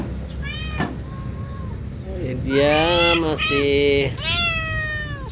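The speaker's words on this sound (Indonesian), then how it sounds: "Nah ini dia lagi sesekali mengeong," A male cat in mating season meows several times, short cries followed by a longer drawn-out yowl, close by, with someone speaking briefly in between.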